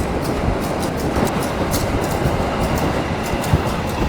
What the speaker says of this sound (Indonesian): Kereta api Argor Merbabu dari Gambir ke Semarang Tawang.